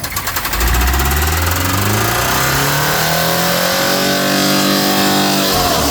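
A 1974 Ford truck with a 306 engine revs hard from a brief rough start, its pitch climbing steadily and then holding a loud, strained high-RPM roar close by.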